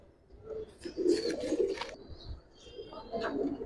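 Giribaz pigeons cooing in a loft in Old Dhaka, soft low throaty coos rising and falling over a few seconds, close and fairly quiet, with faint chirps mixed in.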